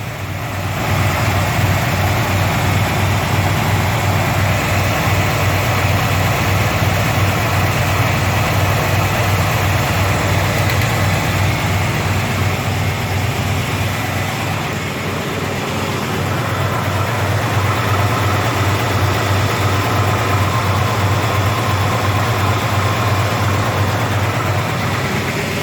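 A 1978 Ford F250 4x4 with a 400ci V8 idles steadily, its loud, deep, even rumble running continuously and close up with no voices.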